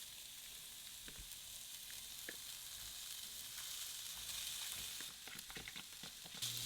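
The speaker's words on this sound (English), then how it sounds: "Dude, smells like a nice grilled steak." Steak cooks in a pan with a quiet, even sizzle and faint spitting crackles, a few soft knocks and scrapes breaking through near the end.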